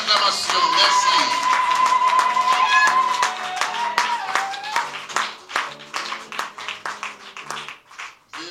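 A church congregation breaks into applause that begins as dense, loud clapping over a sustained sung or spoken tone, then thins into scattered, uneven claps as it fades.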